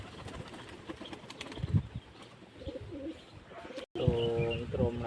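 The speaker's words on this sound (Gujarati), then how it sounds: "તો જો હવે કબૂતર આપણા કેટલા સારા થઈ ગયા છે." Pet pigeons kept at home near their eggs coo in low, throaty warbles close by, with scattered chirps and soft rustling; a clear cooing phrase rises after a brief dropout near the end.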